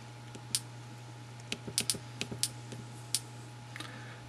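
Soft, irregular keypad clicks from a Samsung Ace smartphone sound quietly and up close over a faint steady hum.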